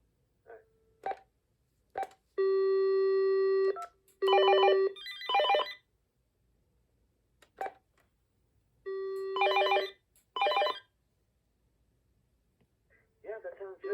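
A vintage AT&T 210 telephone rings with sustained electronic warbling bursts alongside rhythmic bell tones and short keypad beeps, loud and close, separated by silent gaps.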